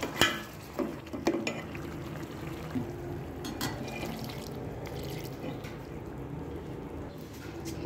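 Water pours into chicken masala simmering in a pan, a soft, near splash and trickle with a few brief clinks at the start, then a steady low bubbling and sizzle throughout.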